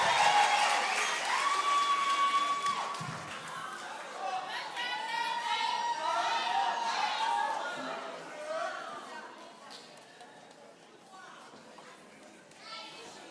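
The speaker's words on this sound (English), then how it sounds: "Give her a round of applause." Audience applause and crowd noise for a singer at a university cultural evening, a broad steady wash of clapping with children's voices and chatter mixed in, fading slightly toward the end.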